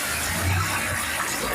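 Water pours steadily into a large pot holding 7 kg of rice being cooked for a birthday party, a brief, continuous gush close to the microphone.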